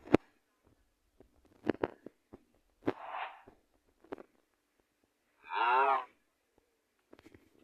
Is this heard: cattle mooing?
yes